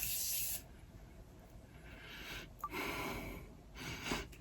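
A short, loud hissing burst of Morphe Continuous setting spray at the start, followed by quieter rustling and a couple of faint breathy puffs.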